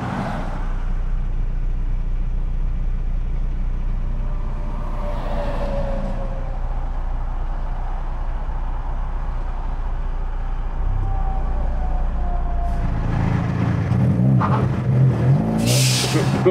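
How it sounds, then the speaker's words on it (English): A Honda Civic engine drones steadily throughout, then revs harder near the end with a burst of tire screech and roar as the car does a burnout. "Was that the burnout?"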